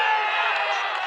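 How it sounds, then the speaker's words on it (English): Crowd cheering at a cricket match in Belgium, a steady wash of voices and whoops swelling briefly without pause. "There was an initial cheer."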